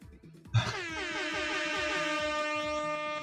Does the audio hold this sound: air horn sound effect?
yes